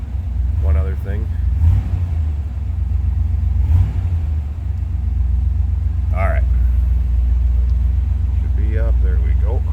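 The V8 engine of a 1964 Chevrolet Corvette convertible runs at a steady idle, a loud, continuous low rumble, while someone talks over it intermittently.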